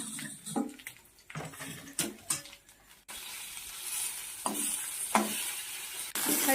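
Pieces of fish, including a small tail piece, fry in a pan with a steady sizzle, broken by clattering handling noises and splashes of water nearby.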